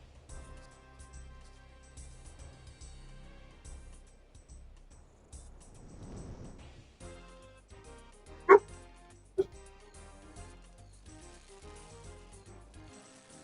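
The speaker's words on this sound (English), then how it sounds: "Boy's woofing at something" A dog in Old School RuneScape gives two short, sharp barks over quiet game music during fishing at Tempoross.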